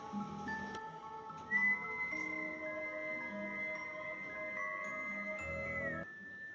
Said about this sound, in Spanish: el silencio fue roto por un silbido agudo y escalofriante